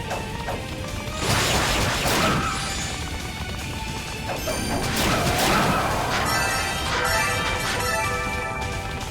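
Busy layered sound effects from the video game Ys Origin during a boss encounter: repeated crashes, whooshes, metallic impacts and ringing mechanical tones over a constant dense background, loud and continuous without speech.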